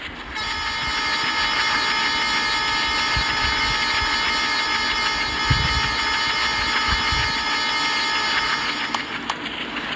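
Passenger train travelling from Durgapur toward Kanpur, heard from inside as a loud steady rumble with a continuous whining drone and occasional low clunks of the wheels.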